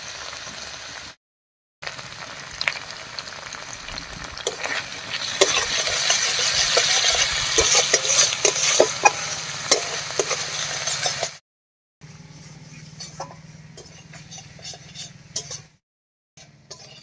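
Raw green plantain with onion paste, salt, turmeric and spices fries in a pan, a soft sizzle with scraping stirs that builds midway, interrupted by brief cuts of silence and ending quieter.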